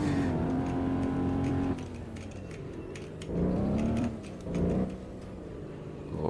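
An Alfa Romeo 8C Spider's engine revs as the gas is hit on a snowy road, a close, loud tone that drops away and then surges twice more in short throttle bursts.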